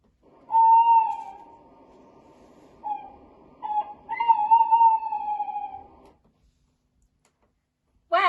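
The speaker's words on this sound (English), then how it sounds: "Well done! It's an owl." An owl gives several hoots, tonal and whistle-like, one long call followed by shorter ones and another drawn-out hoot, clear against near silence, with a brief sound cut in at the very end.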